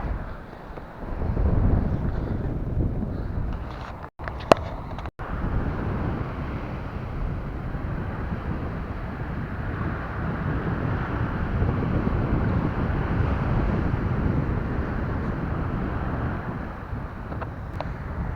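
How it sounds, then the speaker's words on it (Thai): Strong wind buffets the microphone steadily from a Feelfree Moken 12.5 kayak, a dense roaring rush over open sea with faint engine and wave noise underneath. "วันนี้ลมค่อนข้างจะตึงเล็กน้อยนะครับ"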